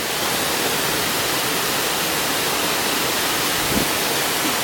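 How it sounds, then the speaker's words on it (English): A waterfall on a wet, flooded hiking trail gives a steady, loud, broadband roar of rushing water with no talking over it. "Here I am, waterfall."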